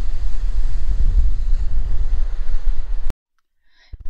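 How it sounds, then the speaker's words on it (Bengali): Indian Ocean surf at Dhanushkodi rolls in loud and close, with heavy wind buffeting the microphone, then cuts off abruptly into near silence. "এটা হচ্ছে আমাদের ভারত মহাসাগর, অর্থাৎ ধনুষকুটির শেষের মুহূর্তে আমরা এসেছি"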